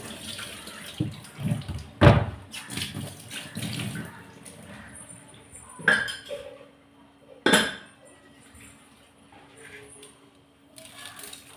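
Fish is rinsed lightly in water in a kitchen pot. Soft sloshing and splashing mix with clinks and a few louder knocks of a metal vessel, while a voice talks faintly in the background.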